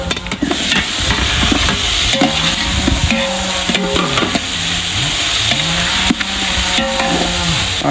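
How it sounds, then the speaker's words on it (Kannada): Onion and tomato fry in a pan at an open-air village cook, with a steady sizzle under rhythmic scraping strokes of a spatula stirring, close and continuous, with no speech. "ಈರುಳ್ಳಿ ಫ್ರೈ ಆಯಿತು, ಈಗ ನಾವು ಟೊಮೆಟೊ ಹಾಕುವ ಇದಕ್ಕೆ."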